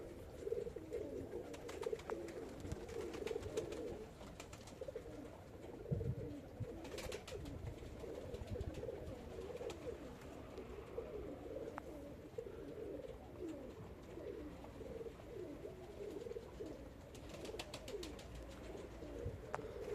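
Pigeons cooing steadily throughout, soft repeated low coos layered together, with a few faint chirps and light background noise.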